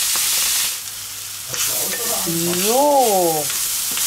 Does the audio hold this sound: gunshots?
no